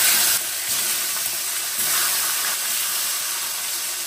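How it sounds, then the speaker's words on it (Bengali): Sardines fry in very hot oil with turmeric, giving a loud, close, steady sizzle with bursts of crackle at the start and again in the middle. No one speaks. "সার্ডিন মাছগুলোকে প্রথমে ভেজে নেব।"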